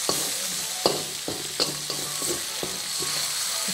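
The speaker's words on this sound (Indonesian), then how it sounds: "Kita tumis hingga berwarna kecoklatan sedikit." Chili sambal being stir-fried in a pan for a spicy mackerel dish: a steady close sizzle broken by repeated sharp scrapes and knocks of the spatula at an irregular rhythm, with no talking.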